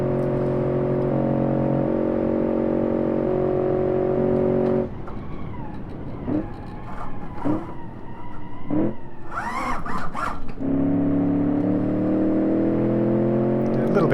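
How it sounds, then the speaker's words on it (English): Car engine in BeamNG.drive holds a steady humming drone, then its note drops and fluctuates as the turbo backs off, with someone talking over the middle stretch before the engine tone rises again. "You can hear the turbo just kind of backing off"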